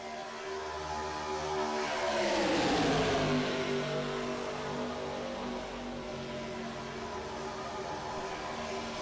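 Race cars at Talladega Superspeedway in a racing video game, a pack of engines droning together with one car's pitch sweeping down as it passes by close, then a steady high whine from the field continuing behind.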